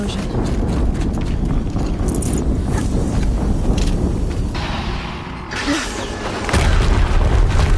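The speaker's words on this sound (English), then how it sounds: "Another explosion." Another explosion in Horizon Zero Dawn gameplay, a thick rumbling roar that dips briefly before a fresh low boom surges back loud in the final seconds.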